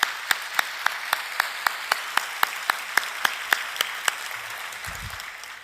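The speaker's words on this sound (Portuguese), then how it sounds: "Também gostaria de agradecer e pedir uma salva de palmas." Clapping at a seminar held in Portuguese, heard as a sparse, evenly spaced series of about fifteen sharp claps over a faint room hum, fading out toward the end.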